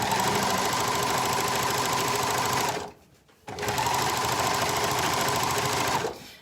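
Sewing machine stitching a side seam on stretch fabric, running loud and continuous for nearly three seconds, pausing briefly, then resuming for another stretch before stopping.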